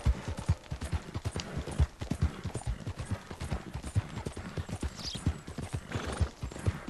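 Horse hooves clip-clop at a steady, fast rhythm in Red Dead Redemption 2, close and continuous throughout, with faint ambient game sound behind them.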